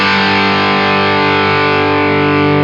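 Electric guitar through an Eastwood Black Box distortion pedal with the tone knob turned down, giving a thick, saturated low end; one loud sustained chord rings steadily without a break and no voices.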